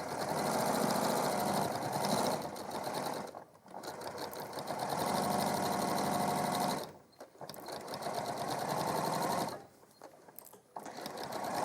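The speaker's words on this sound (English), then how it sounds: "So now we're just going to sew along, reversing at the start and the end." A sewing machine stitches a bag seam at steady speed, a close mechanical whirr in three long runs separated by brief pauses where the stitching reverses or stops.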